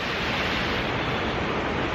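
A river in Ambleside in January rushes in a dense, steady roar, loud and unbroken from start to finish with no voices.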